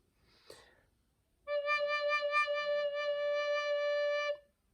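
A soft breath, then a single low D recorder note held steady for about three seconds, full and clear, alone in a quiet room.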